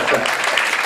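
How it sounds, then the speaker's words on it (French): Crowd applause at a partnership ceremony for an NGO training programme, a brief, loud, continuous burst of clapping with no pause. "Applaudissez pour elle parce qu'elle fait des choses formidables."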